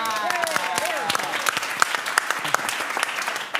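Audience applause breaks out for a new director at a live Saturday night show, dense clapping with a few cheers and voices mixed in, steady and close throughout.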